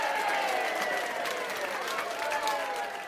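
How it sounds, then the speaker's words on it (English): Recorded applause played from a button in a classroom lesson, a steady wash of clapping and light crowd noise holding at even loudness for about three seconds. "Can I press my applause button?"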